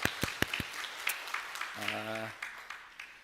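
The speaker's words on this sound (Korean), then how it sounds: "경조 차량위원회 모든 위원님들께 위로의 박수" Applause from a church congregation honoring committee members during a service, a burst of claps over roughly three seconds with a brief tonal note partway through.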